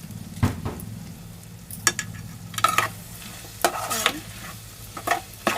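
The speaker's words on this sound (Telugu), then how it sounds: "బాగా ఫ్రై చేసుకుంటాం వీటిని కలిపేసుకుంటున్నాను" Surya masala fries and sizzles in a pan while a spoon scrapes and stirs it in repeated, uneven strokes, close and fairly loud, with no talking.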